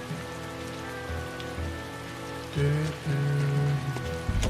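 Rain falls steadily in the video game Tales of Berseria, a constant patter of drops on surfaces under a low, droning musical score that swells louder partway through.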